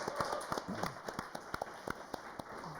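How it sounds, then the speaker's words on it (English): A small audience gives a brief round of applause at a local event in Portsmouth, with scattered, fairly faint claps heard as distinct hits over a low steady hum rather than a dense ovation. "So let's have another quick round of applause for Les and Fake Empire, please."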